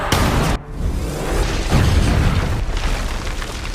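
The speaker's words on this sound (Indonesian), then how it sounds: "teman dekat Chambers yang bernama Goodman menembak jerigen minyak yang dibawa oleh Chambers hingga membuatnya meledak." A loud explosion from a shot oil jerrycan in the zombie film Army of the Dead, a sharp blast followed by a sustained roaring, rumbling burn that fills the whole stretch.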